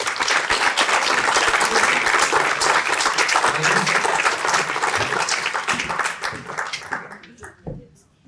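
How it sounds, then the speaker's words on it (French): Loud sustained audience applause welcoming a trio of speakers at a French civic culture and sports event, a thick roar of clapping with crowd noise that thins and dies away in the final second. "je vous demande de faire un tonnerre d'applaudissements à un trio cette fois"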